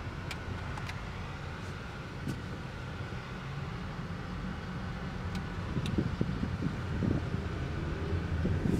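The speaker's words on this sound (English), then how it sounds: "As you can tell, the engine accelerates strongly." A 2013 Hyundai Elantra GT engine pulling under acceleration on a short test drive, a low steady drone with road and wind noise that rises and grows slightly louder toward the end.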